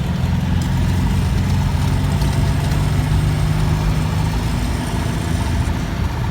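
A Citroën 2CV's small engine cruising steadily on the road, a constant loud low drone and hum from inside the car with no break in tone.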